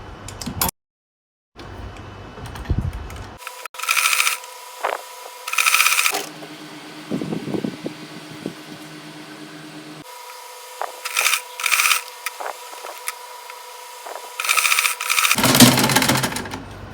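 Sewing machine stitching lining onto an Ankara gown fabric, with repeated short bursts of rapid mechanical stitching separated by quiet pauses and handling noises, close and fairly loud.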